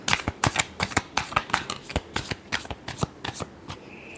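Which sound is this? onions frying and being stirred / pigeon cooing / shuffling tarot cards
shuffling tarot cards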